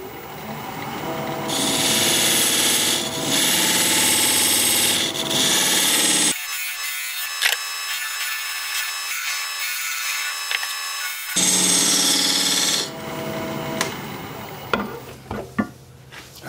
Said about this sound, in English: use this diamond point tool to square up the sides of the tenon